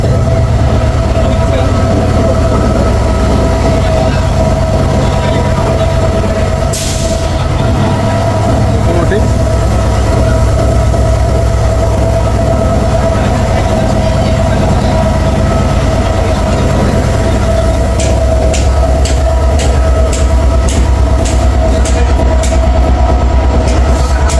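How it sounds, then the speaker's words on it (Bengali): A Porjatok Express train's engine rumbles steadily at a station during an engine change, with a low drone, distant voices and a few sharp metallic clanks near the end. "আমাদের পর্যটক এক্সপ্রেস ট্রেনের ইঞ্জিন পরিবর্তন করা হচ্ছে"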